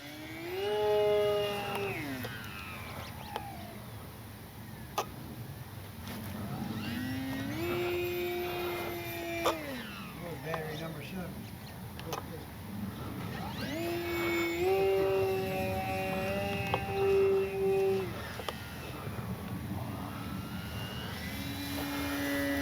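E-flite Sportix 1.1 m electric RC sport plane flying on a warm day, its motor whining and rising and falling in pitch as it passes and throttles, moderately distant and steady throughout.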